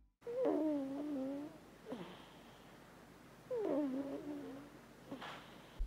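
A pet cat snores in two slow drawn-out breaths, each a raspy wavering rumble with a soft sniffling exhale after it, close and fairly quiet against a still room.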